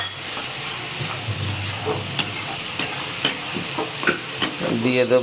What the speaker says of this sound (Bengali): চলুন বন্ধুরা, এই যে আদা জিরে রসুন বাটা পরিষ্কার করে দিয়ে দিচ্ছি, মশলাটাকে সুন্দরভাবে কষিয়ে নেব।